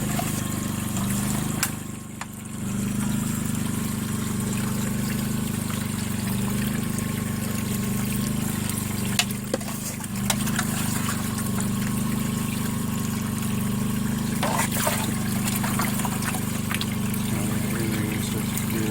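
Water pours and trickles steadily while rinsing fine flour gold prospecting material outdoors in British Columbia, a continuous close splashing flow with occasional louder splashes.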